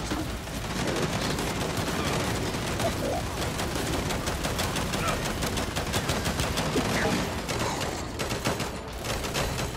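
Rapid bursts of gunfire from a weapon in the video game Gears 5 rattle on almost continuously at close range, with dense repeated shots and no speech heard.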